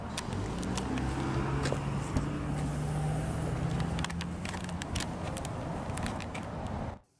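A 2016 Hyundai Genesis Coupe with the 3.8 engine idles through its dual exhaust, a steady close low rumble with a faint droning tone, holding even before cutting off abruptly at the end.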